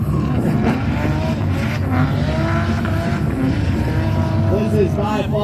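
A BMW E46 drift car on a track, its engine howling continuously and close with shifting pitch, tire noise mixed in, while a person talks over it.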